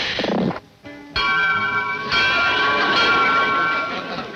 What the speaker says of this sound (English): A school bell.